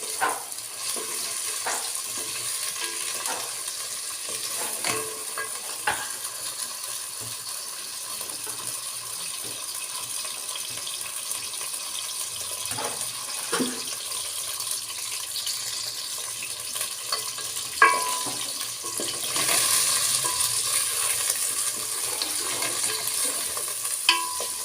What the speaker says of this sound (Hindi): इसमें चलाती हूँ चम्मच, इसको भिंडियों को पहले ना मैं ऑयल में फ्राई करके रख लेती हूँ।